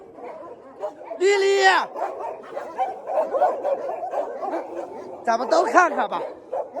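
Dogs at a mountain shelter housing hundreds of dogs bark and yip in bursts, one sharp bark early and a cluster later, close by, with a person talking over them.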